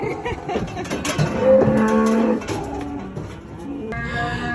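Cattle moo loudly during calf weaning on a ranch, long drawn-out bellows close by, overlapping with a busy background of other animal sounds and no talk.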